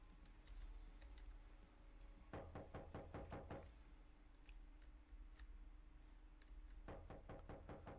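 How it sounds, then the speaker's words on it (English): A door is knocked on in the horror indie game The Slasher Camp Massacre: a sharp burst of about seven rapid knocks, then quiet ambience, then a second run of knocks starting near the end. "somebody's obviously knocking"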